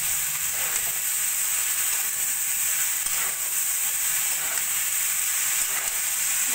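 Boiled banana stem stirred into a frying curry of potato and papaya with spices, a steady bright sizzle and hiss filling the whole stretch, with faint scraping stirs now and then, close and fairly loud, no talking.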